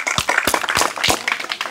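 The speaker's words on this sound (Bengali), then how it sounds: "দর্শক শ্রোতা মণ্ডলী সকলে একটু জোরে করে করতালি।" A small audience claps for a contestant in a bottle-cap flicking challenge, a short burst of distinct, close handclaps in loose rhythm.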